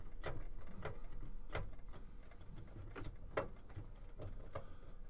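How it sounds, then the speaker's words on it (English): A screwdriver backs out screws holding a computer hard drive, giving small close clicks and ratcheting ticks in an uneven rhythm over a steady background hum, with no talking. "I'll take the corresponding screwdriver with the correct bit, and we'll remove these screws that are holding it on"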